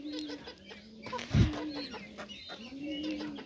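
Chickens on a small home farm clucking softly and intermittently in a quiet setting, with one brief low thump midway.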